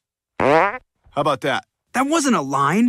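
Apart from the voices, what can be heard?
fart in a Family Guy cartoon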